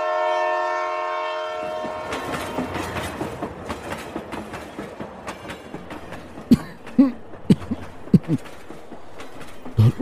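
A departing train used as a stage-play sound effect opens with a long horn blast, then rolling wheels and a rhythmic clickety-clack of wagons pick up and carry on, loud and close with no speech.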